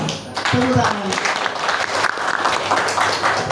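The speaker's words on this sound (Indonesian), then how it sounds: "Tepuk tangan" An audience bursts into applause at a presentation session, a dense, steady wash of clapping from a room full of people, with voices mixed in underneath.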